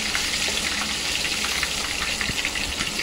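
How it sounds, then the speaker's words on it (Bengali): KFC-style chicken legs, dipped in egg and flour, fry in hot oil with a loud, continuous bubbling sizzle and scattered sharp pops, heard alone without talk. "বাহ, খুব সুন্দর ভাজা হয়েছে"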